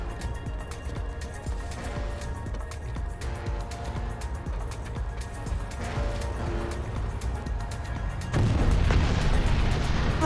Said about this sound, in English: I can actually hear explosions again.